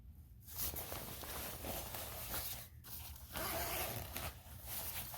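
A YKK pit-zip zipper on a Gore-Tex Gen 1 U.S. military ECWCS parka is run open and closed in several close, raspy strokes separated by brief pauses.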